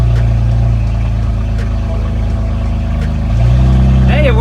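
A totaled BMW M4 Competition F82, raised on jacks after front strut and control arm repair, idles with a steady deep drone that shifts and grows slightly heavier as it drops into drive.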